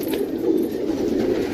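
Pigeons kept for sale in Sarai Alamgir, Jhelum, cooing in a low, steady, continuous murmur, close and alone with no talk over it.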